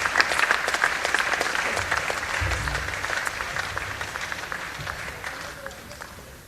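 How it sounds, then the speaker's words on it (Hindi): A large crowd at a political rally in Madhya Pradesh bursts into sustained applause welcoming Nitin Gadkari, dense and loud at first and then gradually fading, with a voice briefly audible over the clapping. "तालियां बजा के स्वागत कीजिए,"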